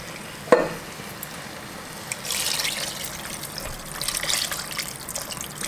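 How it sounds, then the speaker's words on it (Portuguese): Water poured from above into a pressure cooker holding pasta and sausage, a steady splashing trickle that swells and fades over several seconds, close and moderately loud with no talking. "Agora a gente vai cobrir com água."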